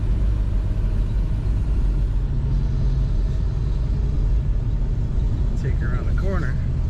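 A black 1966 Ford Mustang Shelby GT350 Hertz tribute with gold stripes drives around a corner, its low engine rumble steady and close, with someone talking over it near the end.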